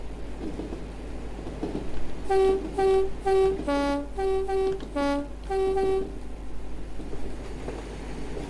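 A Class 50 locomotive horn in Train Sim sounds a sequence of tuned toots that pick out a melody, loud and close over steady engine rumble and rain.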